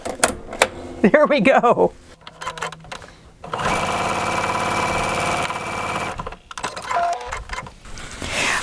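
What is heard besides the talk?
Vesta sewing machine threading needle and sewing a French seam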